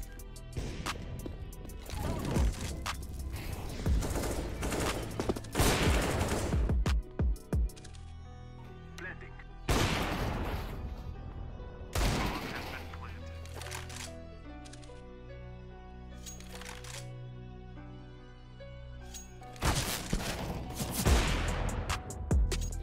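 Rapid bursts of gunfire from the CS:GO video game crack out in loud clusters, separated by quieter stretches of in-game background ambience, with no one speaking.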